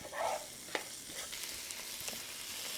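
Potato and chorizo cook in a pan under a lid, giving a quiet, steady sizzle with a few soft clicks and stirring knocks and no talking.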